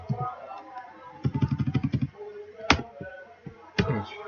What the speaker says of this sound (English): So let me start by typing the rest.